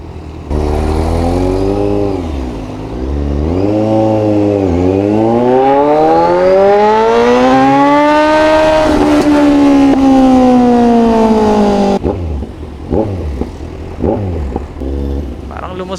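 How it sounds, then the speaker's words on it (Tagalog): A Kawasaki Z1000 motorcycle is revved hard several times, rising toward high RPM and holding a loud, sustained scream before cutting off. Sharp popping backfires follow as the engine drops back, heard close. "Narinig nyo po yung sinasabi kong backfires na hindi"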